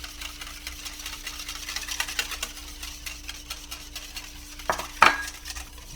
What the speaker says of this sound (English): They'll put their butter in there. Mix that in there too.